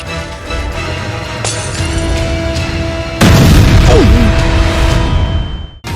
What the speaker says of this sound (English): Tonight in Riverbend, an explosion.